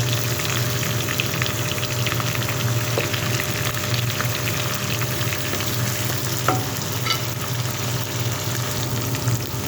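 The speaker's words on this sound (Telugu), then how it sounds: "ఇలా నాటుపెట్టి వండుతున్నాను కాకరకాయ." Bitter gourd (kakarakaya) curry frying in a pan while being stirred, with a steady broadband sizzle and occasional scraping stir sounds running continuously throughout, close and fairly loud.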